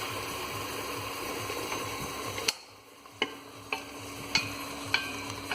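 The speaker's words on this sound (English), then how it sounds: "And now we just fry it." Food for a fish rendang frying in a pan, a steady sizzle that drops out briefly midway, then quieter sizzling punctuated by several sharp utensil clicks at regular intervals, close and with no voices.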